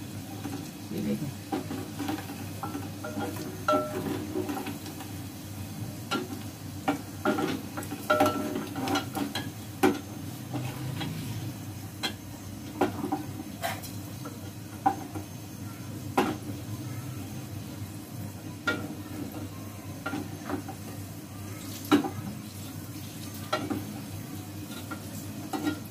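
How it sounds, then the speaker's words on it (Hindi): Onions and masala fry in a pan with a steady sizzle as a spoon stirs and knocks against the metal again and again, close up over a low hum. Faint background voices come and go. "बाकी का मसाला भी भूनती हूँ मैं अभी"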